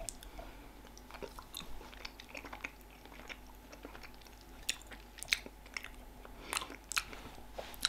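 Close, wet chewing of Jelly Tots sweets with irregular crunchy bites and smacking sounds spread across the whole stretch, with no talking.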